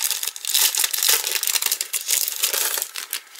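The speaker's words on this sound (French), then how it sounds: "Il y avait la pochette, donc je vais vous l'ouvrir." Crinkling and crumpling of a plastic pouch from a craft collection as it is opened, with close, continuous rustles and small crackles at moderate volume and no voices.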